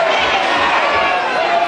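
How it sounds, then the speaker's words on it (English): Wrestling crowd at a 1974 bout between Tibor Szakacs and Big Bruno Elrington, a loud continuous murmur of disapproving voices rising and falling as the wrestler clutches the ropes with a weakened left knee. "The crowd don't like it"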